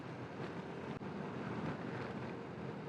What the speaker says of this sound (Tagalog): Makulimlim lang tapos malamig na hangin.